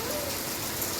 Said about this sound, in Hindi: यह देखो जी बारिश कितनी तेज होगी